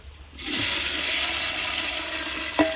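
Washed rice is tipped into a cooking pot for a meat rice dish, bursting into a loud, sustained hissing sizzle after a quiet moment, with a small clunk near the end.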